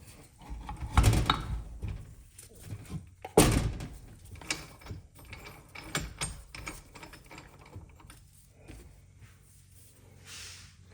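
Metal clanks and clicks as transmission parts are fitted into the bottom end of a Kawasaki KX 250 engine, with sharp knocks near the start and lighter scattered ticks afterward.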